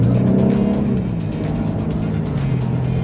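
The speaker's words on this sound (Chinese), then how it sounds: "所以我们先加速到70哦。" A car on Bridgestone T005 tyres accelerates to 70 on a wet test track, with a loud steady engine drone and tyre hiss close by throughout.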